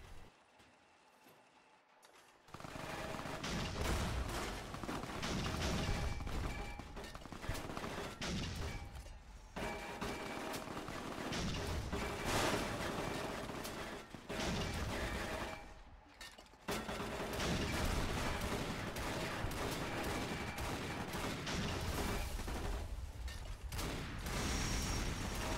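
A drivable Sherman tank's machine gun fires in Fallout, sounding as sustained rattling bursts separated by brief pauses, loud and close, with no talking.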